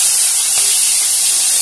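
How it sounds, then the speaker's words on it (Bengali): Fish rubbed with salt and turmeric frying in hot oil in a wok, a steady loud hiss and sizzle that holds evenly throughout with no talk. "মাছগুলোকে আমি ভেজে নেব"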